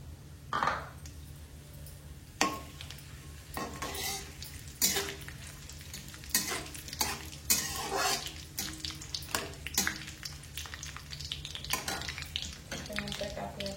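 Whole spices (bay leaf, cinnamon stick, dried red chillies, cumin, mustard seeds, cloves, cardamom) stirred in a hot pan for a spicy chicken curry, with repeated scraping clatters and a steady sizzle throughout, close and fairly loud.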